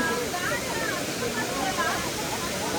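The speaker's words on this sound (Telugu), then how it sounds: "ఇప్పుడైతే ఈ వాటర్ ఫాల్స్ ని సైడ్ నుండి" A forest waterfall in Coorg roars as a constant dense wash of falling water, steady and close with no pauses; a voice is faintly present.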